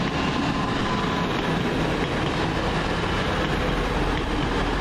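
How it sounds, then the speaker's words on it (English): Transpennine Express train arriving at Huddersfield station, a loud, continuous rumble of wheels and carriages rolling close by, with a heavy low drone and rattling throughout. "Next train in, the 14:31 first Transpennine Express service from Scarborough to Liverpool Lime Street via Manchester Piccadilly and Warrington Central"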